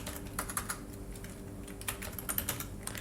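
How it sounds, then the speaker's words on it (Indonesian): Rapid clattering keystrokes on a computer keyboard while entering HTML and CSS code into Google Sheets, a steady run of close, crisp taps with no talking. "Di sini kita ketik ya"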